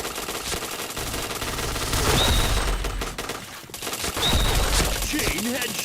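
Rapid automatic gunfire from a shooting video game, dense bursts of shots rattling continuously and loudly, with brief dips between bursts.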